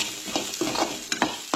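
Onions and other ingredients fry lightly in a pan for a Goan vegetarian thali: a close, gentle sizzle broken by quick scraping stirs of a spoon.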